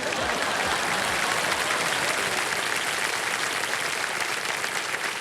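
Dense, loud studio audience applause on a television quiz show set, a continuous wash of many hands clapping at an even level for the whole stretch.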